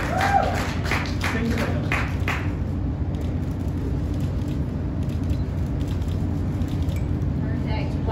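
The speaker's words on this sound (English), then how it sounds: "Big applause for Paris Hilton." Applause for Paris Hilton at a press conference in Mexico: a short burst of clapping at the start quickly fades, leaving steady low room rumble and faint crowd murmur.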